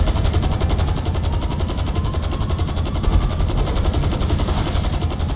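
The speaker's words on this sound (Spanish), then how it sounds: "Está disparando." Rapid, sustained automatic gunfire in GTA V pounds over a heavy low rumble, loud and close, during a chase around a Cargobob helicopter.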